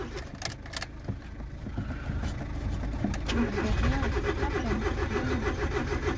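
A van's engine cranks and strains to start, growing into a louder, continuous rumble as it begins to turn over, with a voice speaking over the first part.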